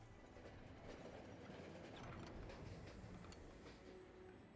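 Train yard ambience from the video game Monster Train: a steady, quiet rumble of rolling rail cars with faint clattering, continuous throughout with no talking.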